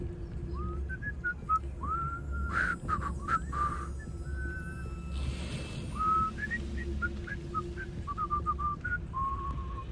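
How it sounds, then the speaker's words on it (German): A character whistles a melodic tune in Hogwarts Legacy, a string of short rising and falling notes over a low steady game ambience, with no talking. "Der kann aber schön pfeifen."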